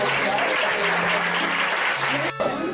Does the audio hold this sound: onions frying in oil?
no